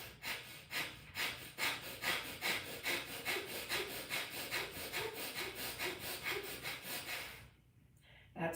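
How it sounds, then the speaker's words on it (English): Vigorous pranayama breathing with arms raised, forceful rhythmic in-and-out breaths in a fast steady cycle of roughly two per second, close and breathy, stopping abruptly near the end. "I'm going to put my hands in the air and vigorously breathe in and out"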